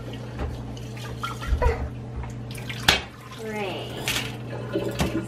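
Water splashes and sloshes as bean sprouts are rinsed in a jar at home, with glass clinks, trickling and dripping. A brief voice sounds faintly in the background.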